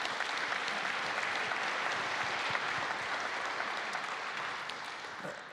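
Audience applause for a conference panel, a sustained, dense clapping that holds steady and fades slightly toward the end, with no talk over it.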